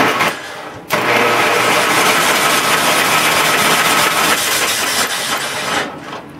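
The small engine of a 1969 WheelHorse Charger 12 garden tractor is cranked over on the starter, a loud, continuous churning drone that runs for several seconds after a brief pause and then fades.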